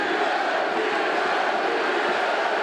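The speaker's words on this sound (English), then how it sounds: "The chants of Diaz emerged through the crowd" Fans at a UFC bout between Nate Diaz and Michael Johnson chanting for Diaz, heard as a dense, steady roar of the arena crowd with no clear rhythm standing out.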